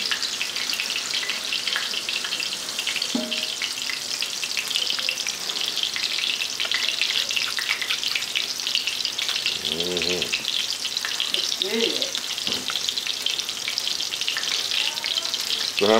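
Hamburger patties fry on a hot surface in a steady, dense sizzle that runs throughout, with a few faint clinks and scrapes over it.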